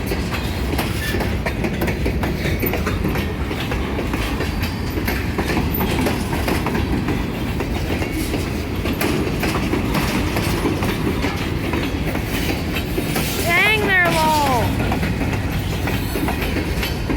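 A Kiamichi Railroad freight train rolls past at Idabel, Oklahoma, with a loud, steady rumble and clickety-clack of wheels, and a brief squeal of wheels near the end.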